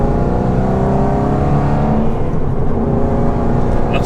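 Aston Martin GT8 with a 4.7 litre naturally aspirated V8 warming up, holding a loud, steady raised idle with a dense throbbing engine note, close and unbroken throughout.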